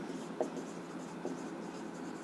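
Writing on a board in a physics lecture about loss of energy when charges are shared gives a faint, continuous scratching with two small taps, distant under a steady room hiss.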